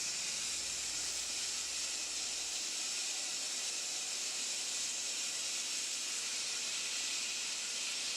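Steam hisses steadily and loudly from the release valve of a pressure cooker making chicken noodle soup, a dense unbroken rush with a faint low rumble fading out early, and no voices over it.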